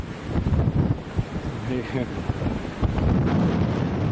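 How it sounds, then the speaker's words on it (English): Wind buffets the microphone on an exposed hilltop along the Knobstone Trail in Indiana, a steady low roar that swells into stronger gusts near the end, with muffled talk faintly underneath. "happens when the wind picks up on top of these hills"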